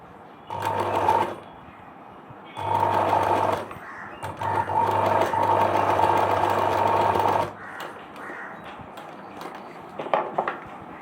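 A sewing machine stitches Anarkali chudithar fabric in three loud, steady runs of about one to five seconds each, separated by short pauses, followed by faint handling clicks and rustles; no one speaks.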